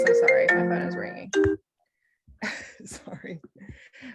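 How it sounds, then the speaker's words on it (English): A phone rings with a short melodic ringtone in a few quick bursts, fairly close, then stops, followed by a pause and a person talking. "my phone is ringing"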